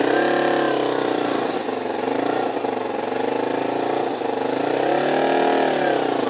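A motorcycle engine running steadily at low revs while the bike is balanced slowly through a parking-space-width turn using clutch, throttle and foot brake, with gentle rises and dips in engine pitch and no talk.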